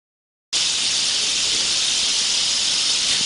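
Abrasive blasting through a Venturi nozzle used for surface preparation, starting abruptly with a steady, loud, high-pitched rushing hiss that holds constant and alone to the end.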